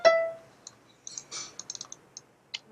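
Clicks on a computer keyboard during MIDI step entry, a sparse series of sharp, close taps, some in quick clusters, separated by short silences.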